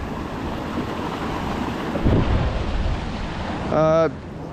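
A small man-made waterfall beside a footbridge at Diamond Hill pours in a steady, broadband rush of falling water, close and loud, with wind buffeting the microphone and a brief tonal sound near the end.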